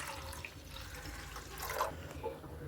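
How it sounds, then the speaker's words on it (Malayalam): Water is poured into a pot of milk for aval payasam, a soft continuous splashing pour that swells briefly near the middle and stays fairly quiet throughout. "പാലെടുത്ത് അതേ അളവിൽ തന്നെ ഞാൻ വെള്ളവും ചേർത്ത് കൊടുക്കുന്നുണ്ട്."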